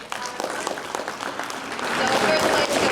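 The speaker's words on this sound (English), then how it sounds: "so a round of applause for everyone here today." An audience at a middle school robotics competition breaks into steady, dense applause that swells slightly louder toward the end, filling the room without pause.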